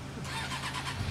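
A car engine cranks and catches, a steady mid-pitched running rumble building under the start, close and moderately loud with no talk over it.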